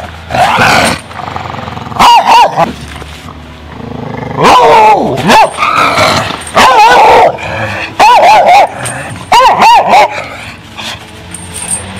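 An aggressive bulldog-cross dog barks, snarls and growls in loud, repeated bursts during an aggression test, close and intense, with brief pauses between outbursts.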